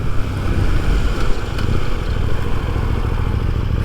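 A KTM 890 Duke motorcycle being ridden, its engine giving a steady, close, loud drone with wind rush, no talking.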